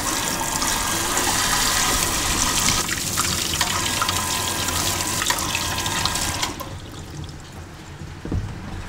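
Mangoes being washed under a running tap at a countryside home: a steady, close, loud gush of water that cuts off abruptly about two-thirds through, leaving quieter splashes and a brief knock.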